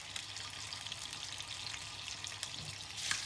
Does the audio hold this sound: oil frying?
yes